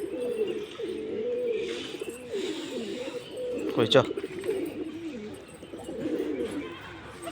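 Pigeons coo softly and repeatedly at a new loft, a low warbling murmur running throughout, with a sharp click near the middle and a person speaking briefly.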